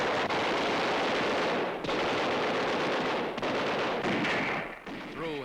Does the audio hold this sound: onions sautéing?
no